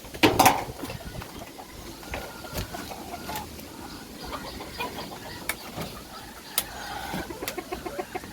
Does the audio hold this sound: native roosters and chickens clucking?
yes